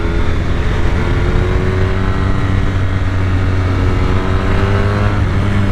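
A steady, loud engine drone with a low throaty rumble, continuous and close, from the Akrapovic slip-on exhaust of a Honda VFR1200F motorcycle while riding.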